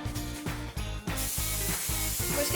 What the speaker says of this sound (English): grease the muffin tin with your olive oil spray